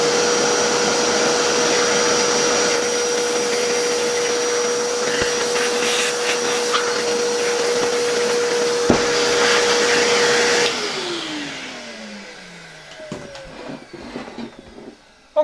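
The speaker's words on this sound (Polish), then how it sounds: "ja najpierw wezmę odkurzacz i tutaj troszkę tę puszkę przyłączeniową wyczyszczę" Vacuum cleaner cleaning out a dirty junction box on a 1958 Croatia single-phase electric motor from Zagreb, a loud steady whine that cuts off and winds down, followed by faint handling noises.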